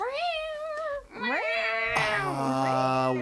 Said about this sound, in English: Wow, that cat is loud.